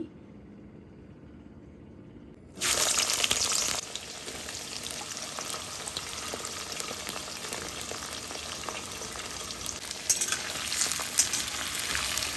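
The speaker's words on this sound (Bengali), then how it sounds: "একটু নাড়াচাড়া করে দিচ্ছি।" Bitter melon pieces hiss and sizzle in a hot pan after a quiet start. The frying bursts in loudly, then settles into a steady crackle, with spatula stirring scrapes scattered throughout.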